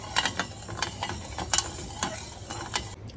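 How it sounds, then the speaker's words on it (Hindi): Sugar syrup for jalebi being stirred in a pan, with soft repeated scraping and clinking strokes at an irregular rhythm, close and fairly quiet over a faint low hum. "इसे अच्छे से हम स्टर करते रहेंगे"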